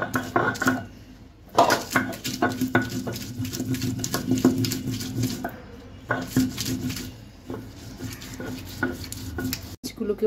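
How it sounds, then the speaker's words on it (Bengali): Green chillies are ground to a paste for prawn kabab, heard as close rhythmic scraping and knocking strokes on a grinding stone. The strokes come in repeated bursts with short pauses between them. "এই হাফ কিলো চিংড়ি মাছ বাটার জন্য ঠিক এক মুঠো কাঁচামরিচ আমি এখন বেটে নিচ্ছি"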